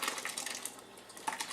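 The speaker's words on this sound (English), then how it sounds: "And now we need to pour all of our whole milk cheese into it." Curdled whole milk for paneer pours into a cheesecloth-lined colander, making a steady, soft wet splashing and trickling that continues without a break and briefly swells near the end.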